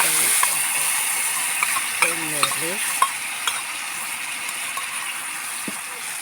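Masala paste frying in oil gives a steady sizzle throughout, with a utensil stirring and clinking against the pan now and then, close and continuous with no talking.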